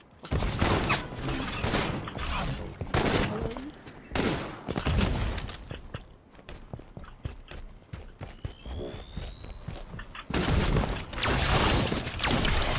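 Gunfire in a shooter video game crackles in rapid repeated bursts and volleys, loud and close, with short gaps between firefights and no clear talk over it.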